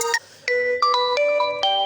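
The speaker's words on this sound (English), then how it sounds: "you have some ringtones on your phone you can set" A ringtone from an Oppo A11k phone: a bright electronic melody of short, clean tones stepping up and down in a quick pattern, loud and close with no talking.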